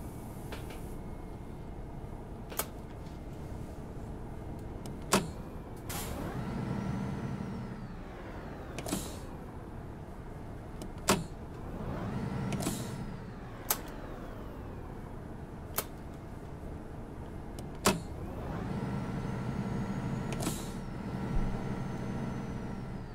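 A city bus in OMSI 2 pulls away in Munich, a low, steady diesel engine rumble that rises and falls through gear changes, with sharp periodic clicks and brief hissing, fairly faint and alone.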